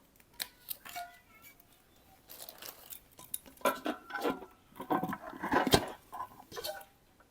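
A kadai (wok) received as a housewarming gift being handled, giving scattered metallic clinks and clatters, sometimes in quick bursts, close by and fairly quiet, with no talking.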